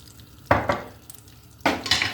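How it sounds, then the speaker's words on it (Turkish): A utensil scrapes and clatters in a pan of butter and olive oil in two short bursts, with a faint sizzle between them and no voices. "Şöyle tereyağı ile zeytinyağımı bir güzel karıştırıyorum."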